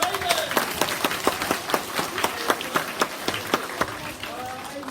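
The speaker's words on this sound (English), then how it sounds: "We'll give Aidan a round of applause" A classroom audience claps for a pupil named Aidan, a steady run of sharp, evenly spaced claps that sounds like only a few hands, fairly close, with faint voices underneath.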